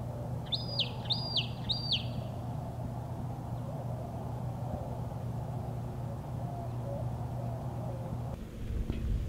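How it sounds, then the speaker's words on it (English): A few bright bird chirps repeat three times near the start, then fainter calls continue over a steady low hum at a quiet campground at Brantley Lake State Park near Carlsbad Caverns. "all you can hear is Birds. the sound of the birds."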